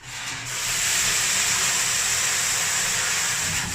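Water poured into a hot oven beside sourdough bread, bursting into a loud, sustained steam hiss that rises quickly and holds steady, close up with no talk.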